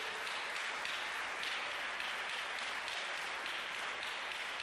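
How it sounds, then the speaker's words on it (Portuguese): A church congregation applauds steadily, a dense, even wash of many hands clapping that continues without a break. "Queria que vocês dessem uma salva de palmas ao Espírito Santo de Deus."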